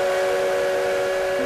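The CK124 steam locomotive on a Taiwanese railway sounds its whistle in one loud, sustained, tonal blast that lasts the whole moment, with no voices.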